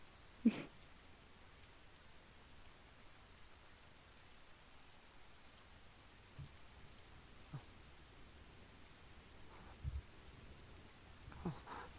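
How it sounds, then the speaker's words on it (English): Steady rain hisses faintly throughout, with a few soft isolated drips and taps standing out now and then against the continuous wash. "I love how crusty this rain sounds."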